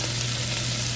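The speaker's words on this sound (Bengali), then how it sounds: "আবার কিছুক্ষণ ভেজে নিতে হবে।" Spices such as salt and turmeric fry in a pan with a continuous close sizzle and a faint steady hum, with a brief stirring scrape at the very end.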